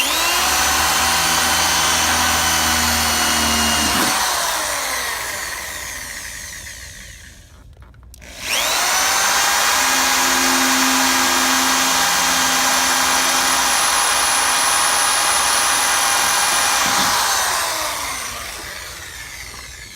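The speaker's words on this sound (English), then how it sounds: "Then drill them out with a 187 diameter drill bit" A power drill with a .187-inch bit bores out rivets on an AMC-20 waste tube assembly, two long whining runs at steady pitch separated by a brief pause, with the motor winding down after each.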